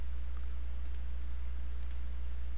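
A computer mouse double-clicks in a simulation software tutorial: two quick pairs of faint, crisp clicks about a second apart over a steady low electrical hum.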